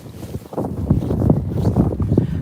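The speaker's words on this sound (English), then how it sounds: "It's gonna get a little windy" Gusty wind buffets the microphone outdoors on a snowy walk, a steady low rumbling roar that swells and dips in rough pulses throughout, with no other sounds standing out.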